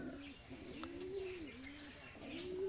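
Desi pigeons coo softly and repeatedly in a rolling, rhythmic call, fairly faint against a quiet background.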